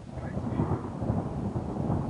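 Thunder rolls through a thunderstorm over northern Meuse, a continuous low rumble at steady strength throughout, with no voices.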